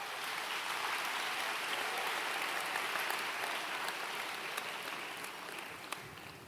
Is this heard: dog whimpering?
no